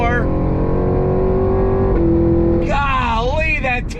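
Cadillac Escalade-V with a supercharged V8 accelerating hard, a steady rising engine tone broken by rapid-fire gear shifts from its 10-speed gearbox, close and loud, with people talking over it.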